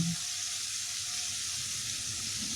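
Raw mango pieces frying in a pan for chutney give a soft, continuous hiss and sizzle at a moderate level, with faint stirring and no voices.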